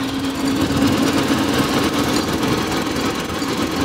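A tiny 1967 car's small engine drones steadily and loudly at high revs, stuck in high gear while climbing and cresting a hill, a constant buzzing hum with no talk over it.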